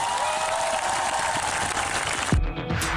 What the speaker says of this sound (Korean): 가련한 청춘을 위하여 박수 한번 보내주시기 바랍니다